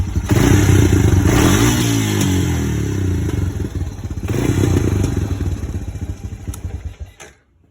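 A 2001 Honda 250EX ATV engine idles loudly with a steady, rumbling exhaust and some rattling clatter, running continuously before cutting off at the end.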